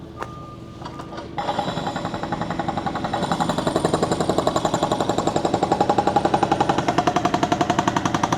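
A roadworks digger breaking up road and pavement beside a restaurant in Paguera, Mallorca, hammers loud and close in a fast, steady rapid-fire rhythm that starts after a brief lull and keeps pounding throughout.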